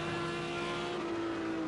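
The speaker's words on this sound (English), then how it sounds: "It sounds like a Merc." A Mercedes GT3 race car engine drones in a sim racing game at Algarve, a faint, steady mid-pitched whine holding one note throughout, with no voices.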